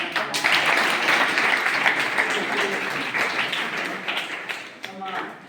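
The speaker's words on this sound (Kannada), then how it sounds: "ಜೋರಾಗಿ ಚಪ್ಪಾಳೆ" Audience applause at a gathering honouring a revered religious leader, steady dense clapping throughout with voices talking underneath.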